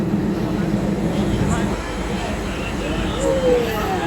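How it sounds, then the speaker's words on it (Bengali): A train pulls out of Abdulpur junction station bound for Rajshahi, a steady low rumble and rolling noise filling the platform, with a faint squeal rising toward the end. "সম্পূর্ণ এখন পূর্ণাঙ্গ একটি ট্রেন ছেড়ে চলে যাচ্ছে রাজশাহীর উদ্দেশ্যে"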